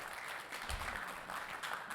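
A keynote audience clapping together in a hall, a short burst of mid-distance applause that holds steady for about two seconds without speech over it.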